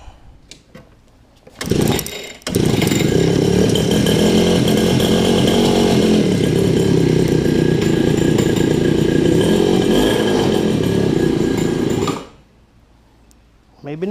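Small engine on a cat-eye super pocket bike catching after a couple of brief bursts, then running in a loud, buzzy, rasping idle for about ten seconds before cutting out.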